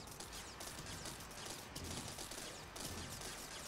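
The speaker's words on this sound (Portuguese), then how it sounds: "Já começa a dar tiro assim." Gunfire rattles through a TerraTech video game battle as dense, continuous bursts under a steady wash of game noise, faint overall with no talk.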